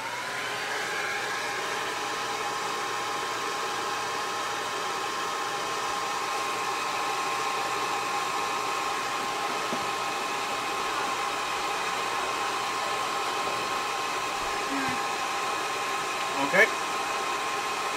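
An 1,800 watt hairdryer running on medium heat and medium blow speed gives a steady, even airy roar. It stays loud and close for the full length with no change in pitch, and a brief small click comes near the end.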